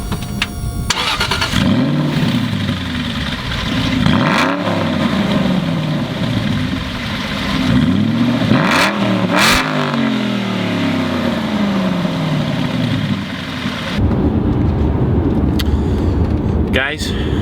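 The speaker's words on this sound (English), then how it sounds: "After a couple seconds, the James Bond car is ready to start" An Aston Martin sports car engine cranks and fires, then revs repeatedly in rising and falling sweeps, loud and close, with a brief hush before more revving near the end.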